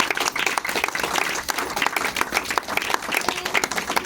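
A church congregation breaks into loud, sustained applause, many hands clapping in a dense, steady wash that fills the room from start to finish.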